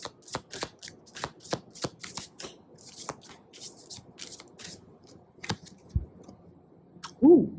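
Tarot cards are shuffled by hand in a steady series of crisp riffling snaps and slaps at close range, followed by a brief voice at the very end.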